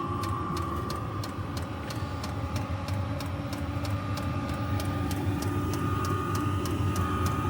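A portable 12 volt diesel heater installed in a caravan runs with exhaust heard outdoors: a steady mid-pitched engine hum with a regular rapid ticking pulse, constant and fairly close.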